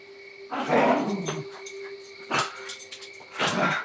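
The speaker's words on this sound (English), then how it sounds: "the dogs are going to play and bark and add to the effect of this story" Dogs let out a few short barks and whiny yips in three bursts, close by, as if roughhousing during play.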